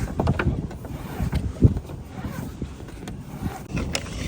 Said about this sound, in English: we're unthreading the old main sheet through the clutch right now